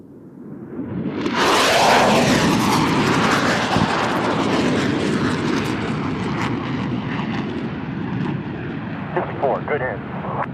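A military jet makes a simulated bombing run at a naval air station air show, its roar bursting in abruptly and loud, then rumbling steadily as it recedes, while an announcer speaks over it.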